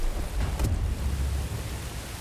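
Steady broadband rain hiss pours through a Star Wars Jedi Fallen Order game scene, with a low rumbling bed underneath and a brief brighter swell near the start, continuous and moderately loud with no voices.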